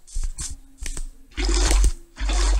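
Water buckets being filled at a river in the video game Minecraft: short clicks are followed by several splashy liquid bursts in quick succession, each a second or less, fairly close and distinct.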